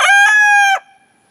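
Loud, close rooster crow on a homestead, a single long strained call that rises and holds before cutting off, followed by brief quiet.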